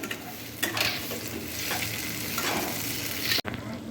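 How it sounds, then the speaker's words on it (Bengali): Chopped onion and tomato sizzling in a pan for prawn curry, a loud continuous fry with a few stirring scrapes and a sharp clack near the end. "এরপর ভালো করে নেড়ে পেঁয়াজ কুচি দিয়েও ভালো করে নেড়ে ভাজতে হবে।"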